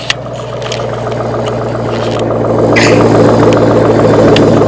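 A car fitted with an MBRP axle-back exhaust idles with a steady low exhaust drone, growing slightly louder and throatier toward the end, with no talking over it.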